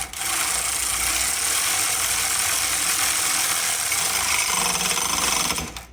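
A power tool tightens the exhaust Y-pipe gasket bolts on a 2008 Infiniti FX35 in one loud, close, continuous rattling burst lasting several seconds before cutting off abruptly.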